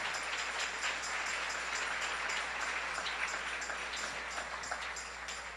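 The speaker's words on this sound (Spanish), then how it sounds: "Dele un aplauso al Señor en esta preciosa y linda mañana." A church congregation claps during a Spanish-language sermon, a faint, steady wash of many hands with a loosely regular pulse, heard from a distance at low volume.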